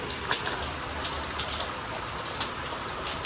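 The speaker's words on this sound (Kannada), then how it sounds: "ನೋಡಿ ಗೈಸ್ ಯಾವ ಲೆವೆಲಿಗೆ ಮಳೆ ಬೀಳ್ತಾ ಇದೆ" Heavy rain falling steadily outside a home, a dense continuous patter and splashing of drops with occasional sharper hits, moderately loud and with no voices.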